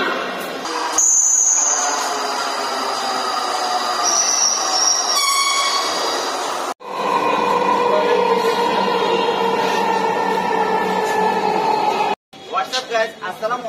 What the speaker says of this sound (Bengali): যাত্রীদের দৃষ্টি আকর্ষণ করছি, এই ট্রেনটি পরবর্তী স্টেশনে থামবে না।